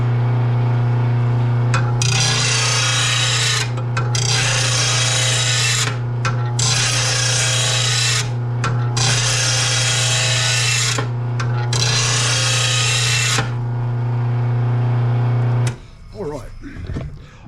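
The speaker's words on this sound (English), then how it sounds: "All right, very nice little grinder. I love my RBG 712." A compact RBG 712 bench grinder runs with a steady, loud hum. Repeated bursts of harsh grinding rasp ride over it, each lasting a couple of seconds, then the grinder cuts off near the end.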